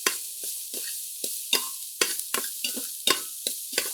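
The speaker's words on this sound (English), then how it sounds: "And then give it a nice little stir." Vegetables sizzle steadily in a pan for Indian cooking while a spoon stirs them, giving a dozen or so rhythmic scraping clacks over the continuous fry.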